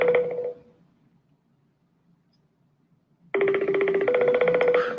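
A telephone rings in two bursts, a short ring at the start and a longer one after about three seconds of near silence, each loud and close with a steady electronic warble.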